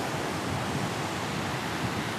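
Ocean waves break on the beach by the wharf at Lomé, Togo, a loud continuous roar of surf and wash with no pauses, heard alone without speech.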